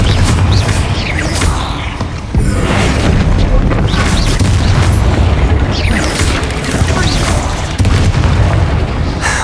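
Confringo explosion spell in the Hogwarts Legacy video game sounds as loud, dense booming blasts and crashing impacts stacked one after another, with a voice briefly heard amid the chaotic combat din.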